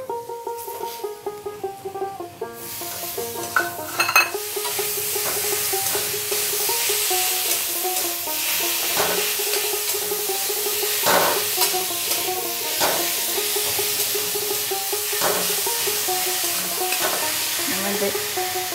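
Chopped banana flower tossed into a pan of fried potatoes, a sudden burst of sizzling frying with steady stirring scrapes and occasional sharp clinks of the spatula, loud and close, with no talking.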